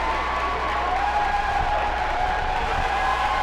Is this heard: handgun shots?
no